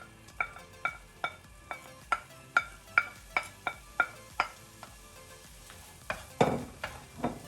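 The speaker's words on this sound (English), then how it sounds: "I'm gonna add the onion just a few seconds afterwards." Chopped onion goes into a hot pot over high heat, a faint sizzle beneath a steady run of sharp utensil taps and stirring clicks, with a louder scrape near the end.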